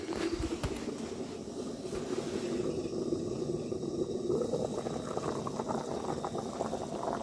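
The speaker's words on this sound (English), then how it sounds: "I've been cooking the stew for 5 hours. It's been boiling for 5 hours." Beef stew bubbles at a steady boil in a pot during winter camping, a close, continuous simmering hiss and burble with no talking.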